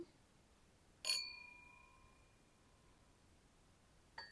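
A crystal wine glass is struck once and rings with a clear, sustained tone that slowly fades, followed by another light tap at the end.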